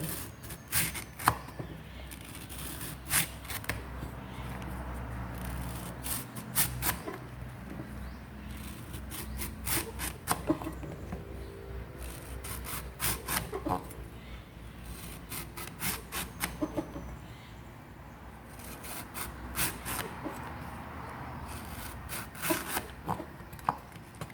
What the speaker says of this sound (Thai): ต้นกล้วยปกติเราจะหั่นแนวเฉียงนี้ใช่ไหมคะ อันนี้เราหั่นแนวยาว